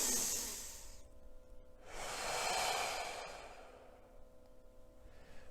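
A person takes a slow, deep breath in and lets it out again during a calming tapping exercise, the soft airy inhale and exhale close and quiet with no talking.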